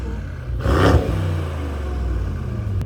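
A Mercedes E63S AMG engine revs once with a quick rising surge, then settles into a low, rumbling idle, with no exhaust pops or crackles.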